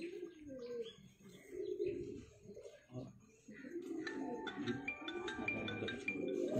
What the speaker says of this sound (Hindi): एक ये प्योर कमगर कबूतर है